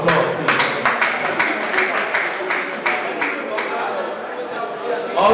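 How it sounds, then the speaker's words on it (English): A roomful of people claps in a round of applause at an old student association get-together in 2024, the dense clapping loud at first and then thinning out, with chatter and voices mixed in. "Shall we just give them a round of applause"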